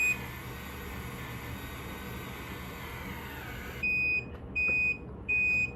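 An automatic hair curler runs with a low steady hum, then gives three loud, evenly spaced electronic beeps near the end.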